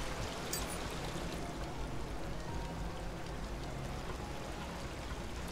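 A waterfall in the Eastward video game pours in a dense, steady roar that stays constant and loud throughout, with no voices.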